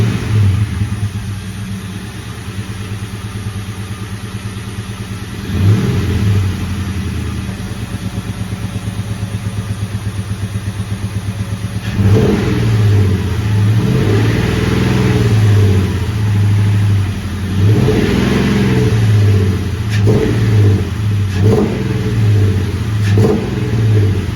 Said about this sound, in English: I'll start the car up, and I give it a few revs